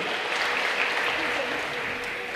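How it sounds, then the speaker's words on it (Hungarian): Audience applause at the opening ceremony of the Ajka ice rink, a steady, dense clapping from a crowd that holds at even loudness for the whole stretch. "egy nagy tapsot kérek szépen neki"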